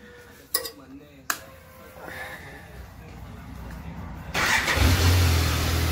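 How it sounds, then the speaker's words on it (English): A BMW K1100 motorcycle engine, already warmed up, cranks and fires into a steady low idle after a couple of sharp clunks. It is loud and close, with a rough rumbling drone continuing to the end. "So anyway, I'll fire her up."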